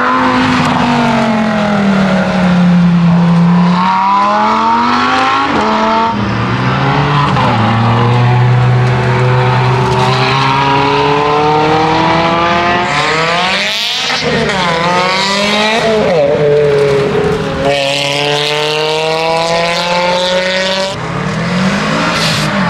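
Race cars lapping a track at a motorsport day, their engines loud and continuous, revving up and down in long sweeping pitch changes as they pass close by, with occasional tire squeal and no talk.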